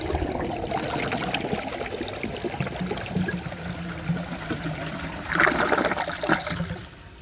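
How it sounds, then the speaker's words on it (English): A 1999 Universal-Rundle Atlas comfort height toilet flushes with a rushing, swirling gush of water that swells briefly near the end, then drains off quickly into trickling. "So let's give this a flush and see how it does on tests."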